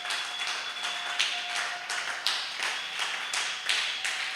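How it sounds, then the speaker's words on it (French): Church congregation clapping in a steady rhythmic beat in praise of the King of Kings, about two claps per second, moderately close and without talk. "Et acclame très fortement pour le roi des rois"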